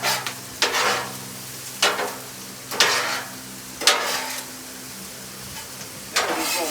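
Beef bacon and corn sizzle on a Blackstone griddle while being mixed, with a steady frying hiss broken by six sharp scraping strokes of a spatula at roughly one-second intervals, close and fairly loud.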